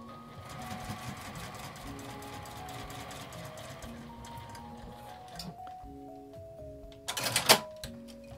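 A domestic sewing machine stitches laminate fabric with a rapid mechanical whirring hum that speeds and slows in short runs, close by, ending with a sharp clattering burst.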